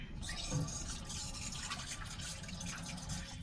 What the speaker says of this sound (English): Let me run some dishwater